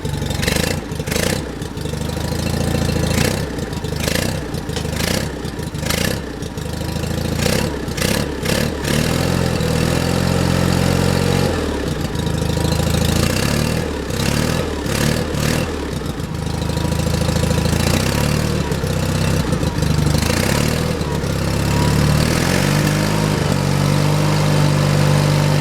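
A John Deere 316 lawn tractor engine, struggling with a fuel problem and running on choke, idles loudly and close with an uneven, pulsing throb and occasional surges.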